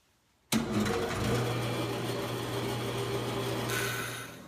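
A bandsaw runs continuously while cutting a profile through a wooden block, a steady mechanical whine with a low hum starting abruptly after a moment of quiet, the blade sustained at an even loudness throughout.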